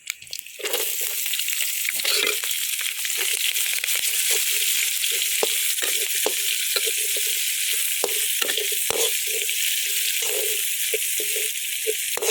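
Chopped onion and green chili fry in a pan, a steady loud sizzle with frequent scraping stirs and small crackles, close by and without talk.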